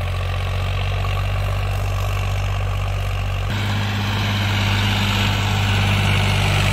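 A 2024 Sonalika DI 745 tractor engine runs steadily under load in a field, a loud, close, droning hum that deepens and grows heavier partway through, with no talk.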